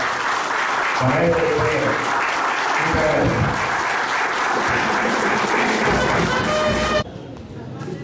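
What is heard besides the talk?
audience applause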